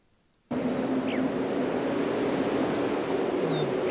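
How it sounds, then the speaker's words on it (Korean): Synthesized wind over a midday plain from a game soundtrack: after a quiet start, a steady broad rush of wind sweeps in and holds, with a few faint, distant bird chirps above it. "바람이 불고 있는 한낮의 평원을 표현해봤습니다."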